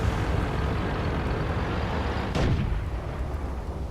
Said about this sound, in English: Fast firing gun.